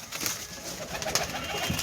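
Pigeons of the Malbai breed cooing softly and continuously, a low murmur of several birds close by with no talk.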